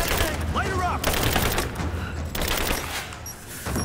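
Gunfire in the video game Rise of the Tomb Raider, dense bursts of shots over a busy combat soundscape with fast rattling fire and booms, running throughout at steady loudness.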